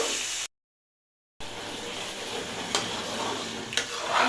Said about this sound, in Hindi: इन तमाम चीज़ों को अच्छे तरीके से मिक्स करने के बाद टमाटर और तमाम मसाले की भुनाई कंप्लीट कर लेंगे